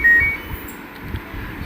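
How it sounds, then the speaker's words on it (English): An LG front load washing machine gives a short, clear electronic power-on beep at the start, followed by quiet room noise. "So now the beep sound is coming."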